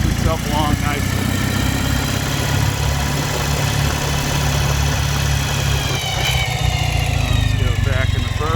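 The engine of a 2007 Ural Patrol motorcycle with a heavy flywheel chugs along at low speed, a loud, continuous throbbing thump with someone talking over it.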